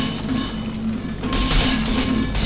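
A glass pane shatters in Portal 2, a bright crashing burst with clinking fragments over a steady game hum, loud and close.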